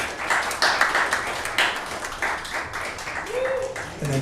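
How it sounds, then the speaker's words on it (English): Audience applause with distinct individual claps in an uneven rhythm, mixed with crowd voices and a tonal sound near the end. "I want to give a big round of applause and bring Dean up for all his hard work"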